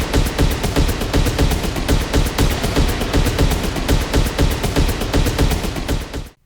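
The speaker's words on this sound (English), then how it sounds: "Today, I'm gonna show you how to make cinematic percussion loops that sound like this." Cinematic percussion drum loop built from free samples, a dense, booming run of rapid, evenly repeating hits that keeps pounding loudly throughout before cutting off at the end.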